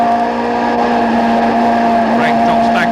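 Touring car engines from the 1989 BTCC race, including Weaver's BMW, roar loud and sustained with a strong steady drone and rising revs as the cars run nose to tail, under continuous race commentary.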